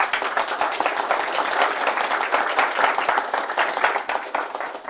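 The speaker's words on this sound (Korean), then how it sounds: "환영의 박수 한번 부탁드리겠습니다." A seated audience at a business forum gives a sustained round of welcoming applause, dense, even clapping from many hands filling the whole stretch at steady loudness.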